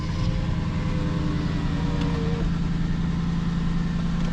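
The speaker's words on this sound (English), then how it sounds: "this car is loud, hold on." A Lexus LS400 sedan idles loudly and steadily up close, a constant low engine drone with no change in pace and no talk over it.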